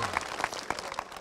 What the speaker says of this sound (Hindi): जोरदार ताली बजे के जाए भैया।